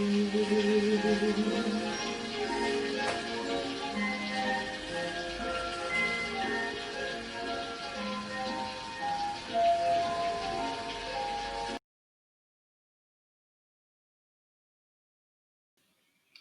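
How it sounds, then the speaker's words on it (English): Rain falls steadily in the film Singin' in the Rain, a continuous patter mixed with music that runs for about twelve seconds before cutting to silence. "dancing and singing in the rain"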